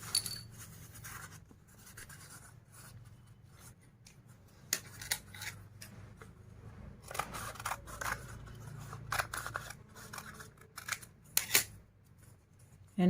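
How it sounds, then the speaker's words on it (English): Scissors snip through folded paper in an irregular series of close, crisp cuts, with paper rustling and handling noises between them. "and cut this paper."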